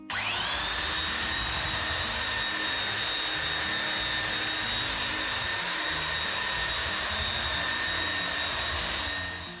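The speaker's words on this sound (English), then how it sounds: "So I've got the belt sander with a pretty coarse grit paper on it" A belt sander fitted with coarse grit paper runs steadily across a wooden workbench top, a loud continuous whine with a rough scraping undertone that holds from start to finish, alone with no talk.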